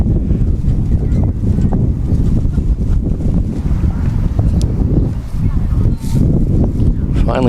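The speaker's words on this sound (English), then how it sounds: "how windy it is here today." Strong gusty wind roars steadily across the microphone at an outdoor soccer field, a dense continuous rumble with little letup, while a voice talks faintly beneath it.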